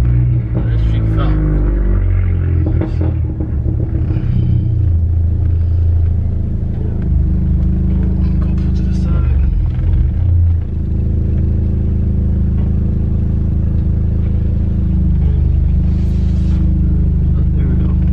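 A car backs up beneath a big fallen tree, its engine a steady low rumble throughout with some rising revs early on, close and continuous, with faint voice sounds mixed in.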